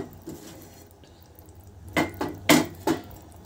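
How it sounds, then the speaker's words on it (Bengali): Boiled pasta tipped into white sauce in a cooking pan, giving a few sharp metallic clinks and scrapes of utensil against pan, spaced apart, over faint kitchen background. "বয়েল করা পাস্তাটা আমি দিয়ে দিলাম"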